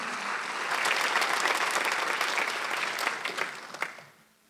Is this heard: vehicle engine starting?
no